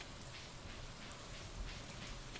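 Rain falling in the video game Stardew Valley, a faint steady hiss of pattering drops with occasional soft splashes, continuous and alone.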